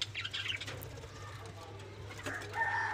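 Zebra finches call from a breeding cage where they are building a nest, giving a few short, faint chirps and nasal peeps over a low background hum, with some muffled movement.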